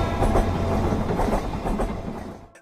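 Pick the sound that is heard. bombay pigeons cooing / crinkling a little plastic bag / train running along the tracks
train running along the tracks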